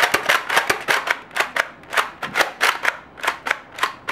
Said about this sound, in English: It does not have slam fire, which is what I was testing there.